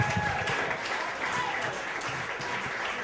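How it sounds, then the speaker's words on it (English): Audience applause at a story slam in West Chester, a dense steady clapping from a room of people that continues evenly throughout, close and full. "Everyone, please keep it going for Nick"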